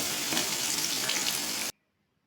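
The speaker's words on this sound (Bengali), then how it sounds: "একই তেলে ছোট আলুগুলোতে একটু নুন আর হলুদ দিয়ে সোনালি রং করে ভেজে তুলে নিচ্ছি।" Small potatoes frying in oil with salt and turmeric, a loud, close sizzle that runs steadily and then cuts off abruptly into silence.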